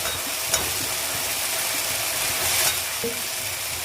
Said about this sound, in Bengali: তেল ছেড়ে দিয়েছে আমি এবার কচুটা দিয়ে একটু নাড়াটাড়া করে দেবো